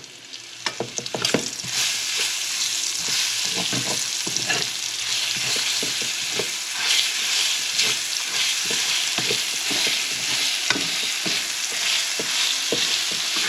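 Adobong sitaw, string beans with garlic, cooking in a pan of sautéed ingredients, a loud continuous sizzle with scattered spatula scrapes and taps, close up and without talk.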